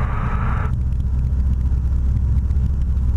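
Sling 2 light sport airplane engine holding a steady, loud droning rumble as a little throttle is added, with a brief higher tone fading out early and no talk over it.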